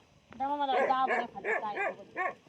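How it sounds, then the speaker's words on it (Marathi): Dogs at a sheep-herding camp bark several times in quick succession, close by, with whining, yelping tones between the barks. "कुत्र्यांनी काय बघितलं"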